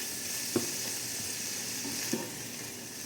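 Onion fries in a pan with a steady, even sizzle, broken by two brief utensil clacks.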